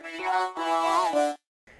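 A lead vocal runs through an articulator talk-box effect, giving a buzzy, synthetic, vowel-shaped tone. Two sustained phrases bend slightly in pitch, then a brief gap, then a faint short tail.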